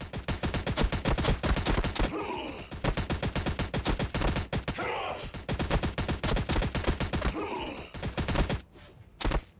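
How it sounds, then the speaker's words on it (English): A Gatling cannon sound effect from a Warhammer 40,000 tank battle tabletop game fires in rapid sustained bursts, loud and close, with short pauses between volleys and a sudden stop at the end. "fire up the Gatling cannon"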